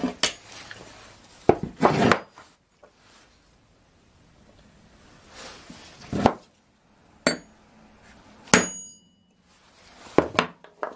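Sharp metal taps from a center punch on a 1997 Honda Civic hub dust cap come in short clusters separated by quiet pauses, close and fairly loud, with no voices.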